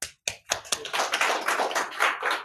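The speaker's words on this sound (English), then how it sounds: "Give it a clap." A small group in a workshop room claps for a team, starting with a few separate sharp claps and building into a steady round of close applause that lasts a couple of seconds.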